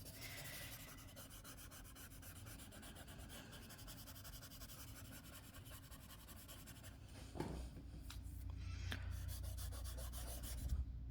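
Pencil shading on paper while drawing a planet gives a soft, faint, continuous rubbing scratch, with a slightly louder stroke near the end.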